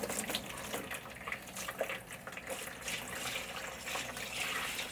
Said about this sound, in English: I'm going to start with 1 gallon of water in this tray to see how much we can cover